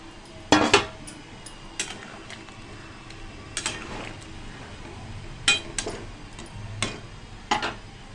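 Fried paneer pieces go into a simmering potato curry in a pan, giving a few scattered clinks and taps of utensil against pan over a low steady background hiss, with quiet talk.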